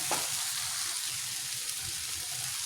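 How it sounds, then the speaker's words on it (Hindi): Okra sizzles steadily in a hot pan while a spoon stirs it up and down, a continuous close frying hiss with soft scraping strokes and no talk. "आपने इस तरह इसको हल्के ऊपर नीचे करते रहना है चम्मच से और ये पक जाएगी"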